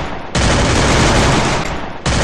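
Cartoon Free Fire character firing on a PUBG map: a loud, dense burst of automatic gunfire cuts in sharply, rattles nonstop for nearly two seconds, pauses briefly, then resumes.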